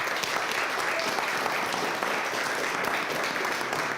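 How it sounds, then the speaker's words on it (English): An audience gives a sustained round of applause at a business talk event, dense steady clapping throughout with no pauses. "Another round of applause."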